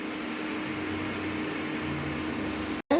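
Sugar syrup for bread halwa boils in a pan with a steady, moderately quiet bubbling hiss that stays even throughout, cut off by a brief dropout near the end.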